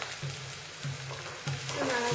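Eggplant with chopped garlic and salt fries in a pan, a soft steady sizzle broken by three muffled scrapes of a spoon stirring at regular intervals.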